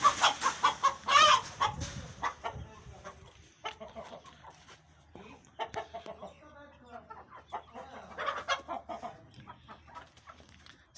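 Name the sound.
chickens clucking on a farm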